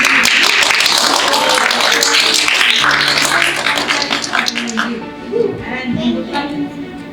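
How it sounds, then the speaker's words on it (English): A round of audience applause for a distinguished Toastmaster speaker at a Toastmasters contest event, with dense clapping over the first few seconds that then thins out. Room noise and a faint voice follow. "a big round of applause to our speaker"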